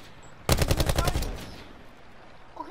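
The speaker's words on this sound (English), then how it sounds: "I want to shoot the target." Automatic gunfire from the video game Call of Duty Black Ops Blackout, one loud close burst of rapid repeated shots lasting about a second, then fading tail, with no speech over it.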